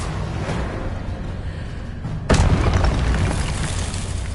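A Confringo blasting spell from the video game Hogwarts Legacy goes off as a single loud, sudden boom midway through, with a sustained rumbling roar after the steady background of game sound.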